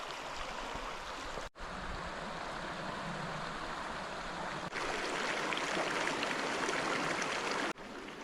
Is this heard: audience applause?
no